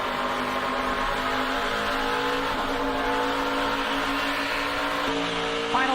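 NASCAR race cars running close together at Homestead, a steady dense engine roar with layered harmonic drones throughout and a brief rising whine near the end, no voices.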